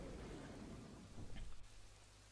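Rain in the video game Kingdoms and Castles, a faint, steady wash of rainfall with a low rumble swelling briefly near the end, no one talking.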